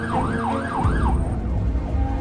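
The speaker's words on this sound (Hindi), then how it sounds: "साइरन ऑन करो जल्दी।" An ambulance siren switched on in traffic, its rising and falling wail cycling several times then fading, over a low vehicle rumble.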